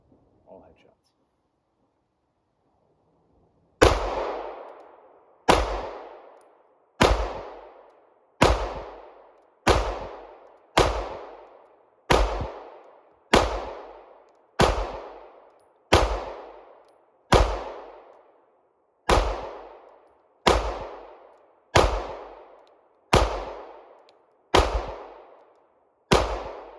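A CZ clone pistol firing 124 grain ammunition cracks about seventeen times at a steady, slightly uneven pace, each loud close shot echoing and decaying before the next, after a few quiet seconds.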